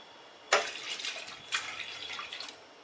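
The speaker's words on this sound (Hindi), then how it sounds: "2 कप पानी डाल देंगे" Water poured from a vessel into a pressure cooker holding soaked moong dal, heard as two short splashing pours, the second starting about a second after the first, close and moderately loud with no talk.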